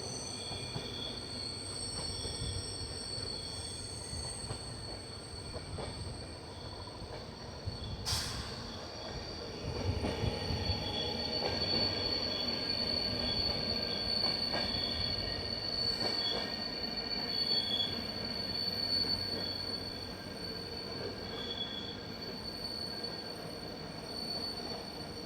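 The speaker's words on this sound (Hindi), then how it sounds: "तो यहाँ पे हमारी ट्रेन स्किप करने जा रही है तिनई घाट को।" The Poorna Express sleeper train near Tinai Ghat gives off a steady, piercing squeal of wheels on rails over a continuous rolling rumble, sustained throughout.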